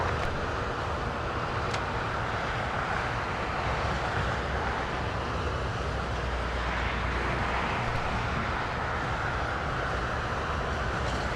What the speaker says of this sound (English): 747 taxiing to the ramp